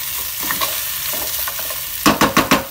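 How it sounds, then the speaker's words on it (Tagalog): Pork browning in a pan for Filipino pata adobo made with Sprite, a steady hiss of frying broken near the end by four quick scraping stirs of a utensil against the pan. "Buksan na natin at haluin ulit"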